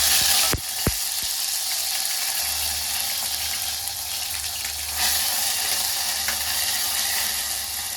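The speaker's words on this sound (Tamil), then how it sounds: "இப்போ இஞ்சி பூண்டு பேஸ்ட் போடலாம்." Ginger garlic paste hits hot oil in a pressure cooker with a sharp burst, then settles into a loud, steady, crackling sizzle that runs the whole time with no talking.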